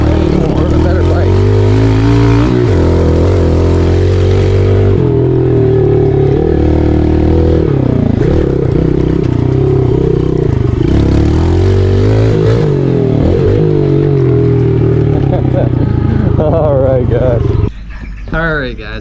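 Yamaha TTR 110 pit bike revving hard during laps, its engine close and loud with rising and falling pitch as the throttle opens and closes, and voices heard over it.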